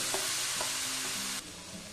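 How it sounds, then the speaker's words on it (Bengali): Onions fry in a pan with a constant bright sizzle, and a few quick stirring scrapes are heard during a short burst without speech. "ভালো করে পেঁয়াজটা ভেজে নিতে হবে।"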